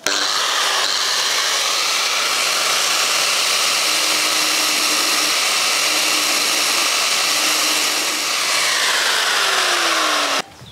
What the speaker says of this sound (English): I'm going to grind off the head and then I'm going to drill it out a bit